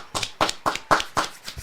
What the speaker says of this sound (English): Give yourself a round of applause, everybody.